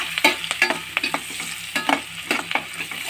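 Onions and chillies for poha sizzle in a pan under brisk stirring, with a dense crackle and quick scraping strokes throughout, close and fairly loud.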